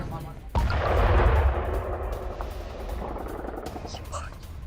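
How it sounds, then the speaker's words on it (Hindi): A sudden loud blast from a drone attack in Taganrog, Russia booms, followed by a long rumbling roar that slowly fades, with a faint voice audible afterward. "ड्रोन अटैक के बाद जोरदार धमाका हुआ है"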